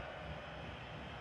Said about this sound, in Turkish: Uçaklar.